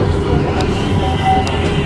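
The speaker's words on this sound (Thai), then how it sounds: "เข้าโค้งครับเข้าโค้ง" Istanbul tram rolling through a curve on its rails, a loud, close rumble inside the car with faint wheel squeal, while someone talks over the noise.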